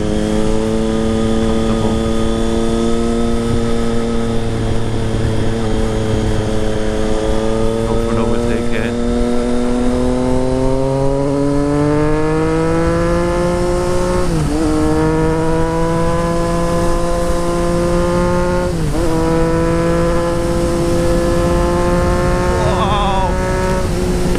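A Triumph Street Triple with a Racefit Growler straight-pipe exhaust rumbles loudly and steadily, its pitch climbing in slow revs with a few sharp throttle blips, a voice faintly heard over it.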